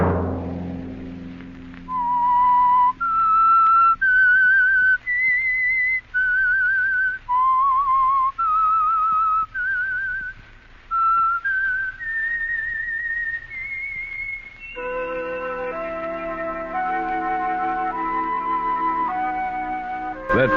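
A sustained whistled melody, the signal tune of the old-time radio mystery series The Whistler, rising and falling in clear held notes, then joined by an orchestral backing toward the end; no talking.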